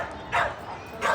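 Dogs in a Union Square dog run in New York, two short sharp barks about a second apart over a busy outdoor background with voices.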